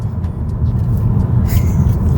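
BMW 220d diesel coupé gently accelerating, a steady low engine rumble from inside the car, loud and continuous with a brief faint click partway through.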